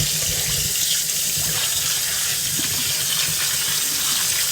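Hot water gushing steadily from a tap into a sink, a loud continuous splashing rush that stays even from start to finish with no voices.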